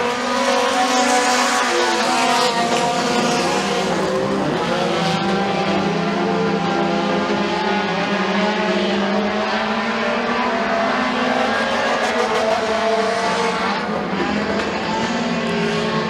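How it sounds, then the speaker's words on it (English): Race cars roar continuously around a dirt speedway at McKean County Raceway during heat races, a dense, loud wall of engine noise with rising and falling revs as cars pass through the turns. "He is all over the back bumper of Gillespie as they head off of turn 4"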